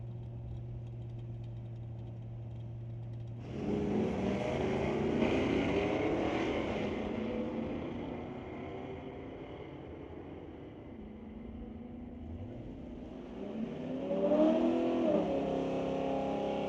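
A Dart and a Mustang drag race each other, with engines droning at idle before a sudden surge of revving acceleration. The roar sustains, eases, then climbs again with a rising whine near the end.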